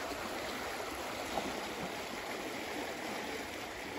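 A creek swollen by heavy rain rushes steadily past, a dense continuous wash of water noise with no breaks and no voices.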